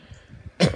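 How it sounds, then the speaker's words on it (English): A single short, sharp cough bursts out near the end after a moment of quiet, close to the microphone during a Splatoon 2 Splatfest gaming session. "Sorry about the cough."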